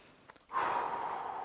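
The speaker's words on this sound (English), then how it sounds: "So let's sniff it out." A single sharp sniff at a Pasha de Cartier Parfum sample, close to the mic: a quick intake, then a longer breathy draw lasting about a second.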